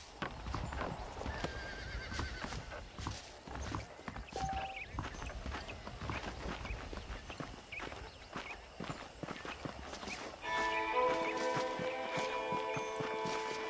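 Horse hooves clip-clopping at a walk with a whinny in the Western game Red Dead Redemption, close and crisp over faint ambience, with a brighter musical swell near the end.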